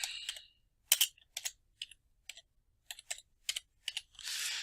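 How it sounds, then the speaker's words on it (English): Computer keyboard typing close up, short bursts of sharp key clicks with brief pauses between, ending in a longer soft hiss. "We're going to type that in"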